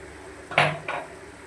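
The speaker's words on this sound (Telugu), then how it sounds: "వేసి బాగా కలపెట్టాలి." A spoon clatters twice against a pan while prawn curry with ginger-garlic paste, turmeric and chilli powder is mixed: a sharp scraping clang followed by a softer second scrape, close and brief, no voices.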